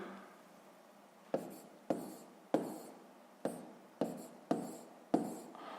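Pen or marker strokes write numbers for a sixth-grade decimals math exercise, with seven short, distinct scratchy strokes at uneven intervals, close and alone in a quiet room.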